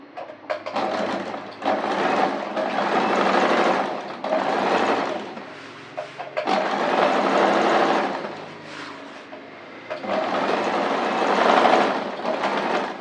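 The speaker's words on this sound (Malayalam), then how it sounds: "ഇനി നമുക്കിത് റൗണ്ടേ ഒന്ന് സ്റ്റിച്ച് ചെയ്യാം." A sewing machine stitches around the edge of a kurti made from nighty material, running in several steady bursts of a few seconds each with short pauses between them, close and alone.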